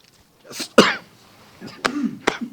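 A few close, abrupt coughs and throat-clearing sounds from one person at a board of adjustments meeting, loud and irregular, in an otherwise quiet room.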